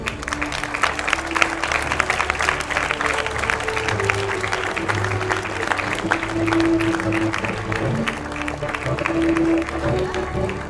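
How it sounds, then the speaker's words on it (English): An audience applauds at a university medical faculty colours awards ceremony in Colombo, giving sustained, dense clapping from a large crowd that rises and falls slightly, with a few faint voices mixed in. "please give a big round of applause to Hasandu Arumakere."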